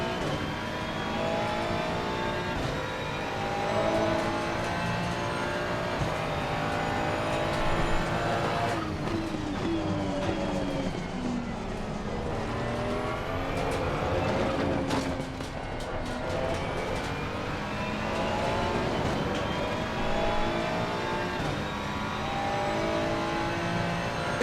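Ferrari race car engine in Assetto Corsa Competizione, racing around a track, revving and shifting steadily throughout with brief tyre squeal and skidding, loud and continuous with no talk.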